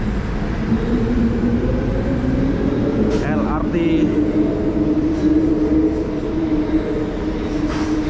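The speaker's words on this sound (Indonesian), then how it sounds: "Beginilah suasana stasiun Pasar Seni ya." Inside Pasar Seni LRT station on Kuala Lumpur's Kelana Jaya line, a steady rumble of train and ventilation hum fills the space, with brief squeals and a voice talking throughout.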